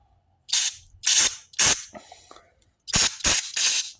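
Short, sharp bursts of aerosol cleaner spray hissing close by as it is sprayed into a secondhand pressure washer part, three quick puffs, a pause with faint clicks, then three more in quick succession.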